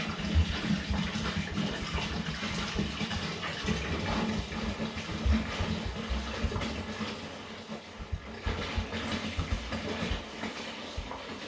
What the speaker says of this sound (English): So when I'm pouring the water, I'm doing it from quite a big height. So a lot of splashing